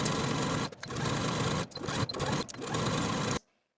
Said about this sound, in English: edge stitch all along the inner fold from one side to the other